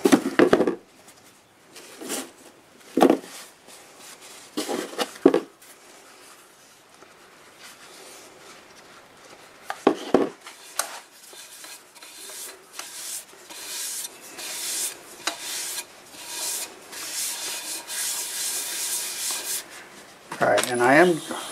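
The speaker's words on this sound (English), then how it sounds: "let's go ahead and use some Acks abrasive paste on it" Turned segmented wood being polished with abrasive paste on a lathe running in reverse at about 400 RPM, giving a steady close rubbing and sanding hiss with a few louder scuffs and brief pauses, no talk.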